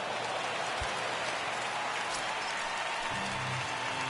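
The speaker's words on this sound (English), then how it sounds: "There is rain in the area" Steady rain hisses across a ballpark in the baseball game MLB The Show 19, a dense constant wash of falling drops with a couple of faint low thumps underneath.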